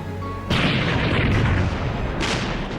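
Naval guns firing at the Battle of Jutland: a sudden heavy boom followed by rolling, rumbling blast noise and a second burst near the end, loud and dense.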